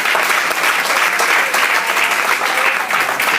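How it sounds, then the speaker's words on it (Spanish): A church congregation applauds for the Lord, a loud, dense, continuous burst of clapping filling the room without pause. "un aplauso al Señor"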